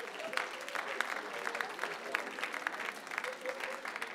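A church congregation applauding, steady dense clapping from many hands at a moderate distance, lasting throughout with faint voices mixed in.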